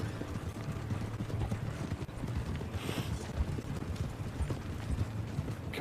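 Horse hooves clip-clop in a steady trotting rhythm on a road in the Red Dead Online western video game, moderately near, with rumbling ambience and no talk.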